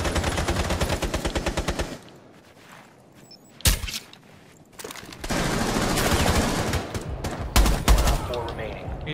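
Rapid automatic gunfire in Rainbow Six Siege, loud sustained bursts of rattling shots broken by a pause and a single sharp crack, then renewed heavy firing with voices heard amid the shooting.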